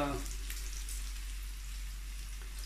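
Lardons and leeks fry in a pan with a soft, even sizzling hiss that holds steady over a low background hum.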